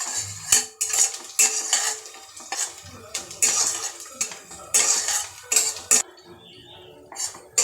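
Onion being sautéed and stirred in a pan for a lentil dish, with a spoon clattering and scraping against the pan in irregular bursts, close and fairly loud.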